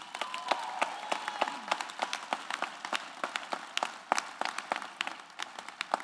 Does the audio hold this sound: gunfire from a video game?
no